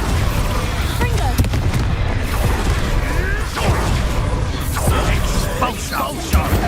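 Confringo and Expulso spell blasts in the Hogwarts Legacy video game go off as loud, continuous crackling explosions and whooshing bursts, layered over a dense rumble with a voice calling out during the duel.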